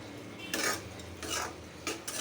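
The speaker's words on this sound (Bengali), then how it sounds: "এখন একটু নাড়া দিয়ে দেবো মাছটা কাঁচা থাকতে" A metal utensil scrapes and stirs puti fish with spinach in a pan in three short, close scraping bursts, with no voices.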